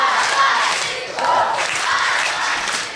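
Crowd cheering and clapping for a departing pair of contestants at a children's camp Mister and Miss pageant, a loud, dense burst filling the hall.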